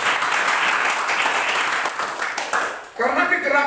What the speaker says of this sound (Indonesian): Yang percaya berikan tepuk tangan yang terbaik bagi Tuhan.